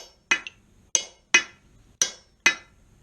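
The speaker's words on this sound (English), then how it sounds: "With the chisel, we'll just go ahead. Should be able to finish this cut the whole way." Hammer blows strike a chisel cutting through hot forged steel on a blacksmith's anvil, six sharp ringing metallic clinks at a steady, slightly uneven rhythm, close and loud with short decays between.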